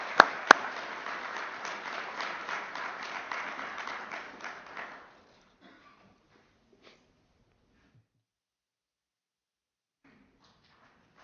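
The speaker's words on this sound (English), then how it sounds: "A round of applause for Sushil." A crowd applauds a graduate at an engineering college's fall commencement ceremony, a dense burst of clapping with two sharp claps at the start that fades out after about five seconds, leaving near silence.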